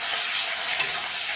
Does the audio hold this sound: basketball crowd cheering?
no